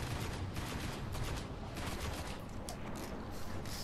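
Dense, continuous automatic gunfire from the video game Destiny during an Earth prologue mission, rapid overlapping shots forming a steady fusillade at even loudness with no talk over it.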